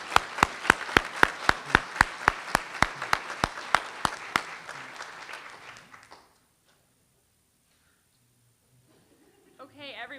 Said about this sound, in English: let's give them one more round of applause for their outstanding